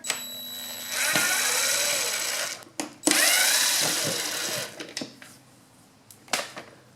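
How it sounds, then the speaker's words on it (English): A power driver whirs as Phillips screws come out of a scooter's air filter box cover, in two long bursts followed by short spins and clicks. "Let's pull the air filter box cover off. Just some Phillips screws in here."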